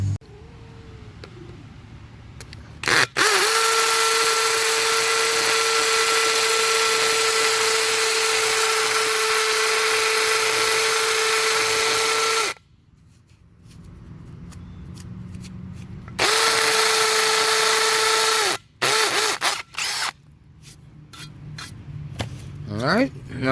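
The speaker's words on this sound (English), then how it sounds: "So let's go ahead and get our hole drilled now" A power drill bores a hole into concrete to set an anchor, running in two long steady whining bursts with short pauses between, followed by a few quick stop-start pulses.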